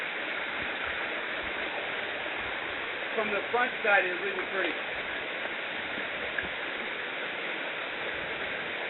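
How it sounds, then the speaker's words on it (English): A waterfall at Twin Falls on a Hawaiian hiking trail gives a steady, even rushing roar throughout, with a person speaking briefly over it near the middle. "it started the waterfall again"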